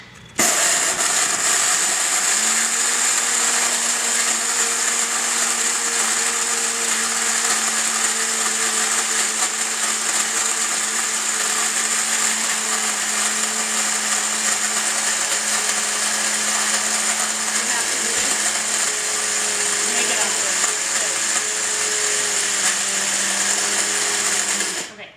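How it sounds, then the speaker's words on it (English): An electric coffee grinder whirring continuously at a steady high pitch, running loud and unbroken for the whole stretch before cutting off. "these coffee grinders are all going to differ"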